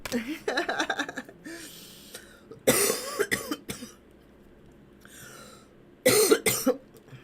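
Several bursts of harsh, close coughing come in clusters separated by brief pauses, with raspy breaths between them.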